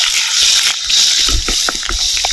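Tamarind water mixed with chilli powder is poured into a clay pot, giving a close, loud splashing gush with bubbling sizzle and small knocks throughout.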